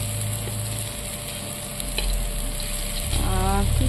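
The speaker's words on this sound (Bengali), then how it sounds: "দেখো কি সুন্দর করে ভাজা হচ্ছে" Food sizzles steadily in a hot pan on a home stove, a continuous crackling fry with occasional stirring scrapes, swelling louder near the end.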